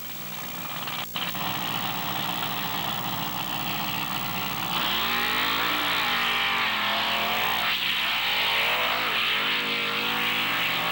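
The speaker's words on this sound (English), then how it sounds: "Ford engine underneath that big 3D monster truck body there." A Ford-engined monster truck under a big body idles loudly, then revs hard several times with rising and falling engine pitch during a qualifying run at a beach event.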